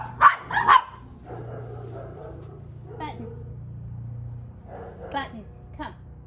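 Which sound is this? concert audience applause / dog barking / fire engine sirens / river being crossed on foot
dog barking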